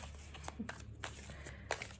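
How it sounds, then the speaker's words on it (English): A deck of tarot cards is shuffled by hand indoors, with quiet, close-up riffling and soft card slaps in short irregular bursts. "we're just going to shuffle a million times"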